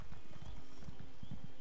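A horse gallops in The Elder Scrolls Online, with quick rhythmic hoofbeats thudding steadily over a brief stretch and no voices over them.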